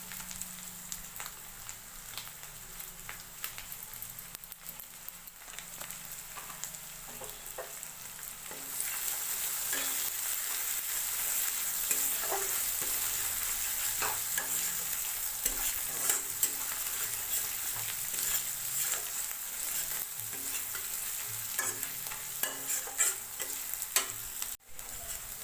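Cumin powder and red chili spices fry in a pan, crackling softly at first and then swelling into a loud, continuous sizzle, with scattered scraping and stirring clicks close by.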